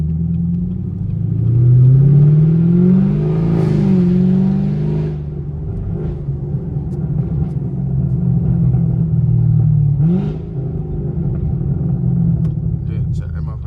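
A loud catless sixth-generation Camaro SS engine revs and roars steadily near the listener, surging a couple of times, with a person talking over it.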